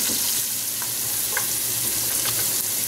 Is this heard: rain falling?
no